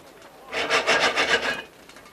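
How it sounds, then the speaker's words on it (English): A quick burst of rhythmic rattling and scraping, about six rapid shakes of a pan of popping popcorn kernels on the stove, close by and alone. "Now we'll give it a shake."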